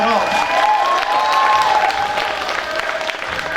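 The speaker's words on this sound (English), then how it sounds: "So I would like a round of applause." An audience applauds at a literary reading event, with loud, sustained clapping throughout and a few voices and cheers mixed into the crowd noise.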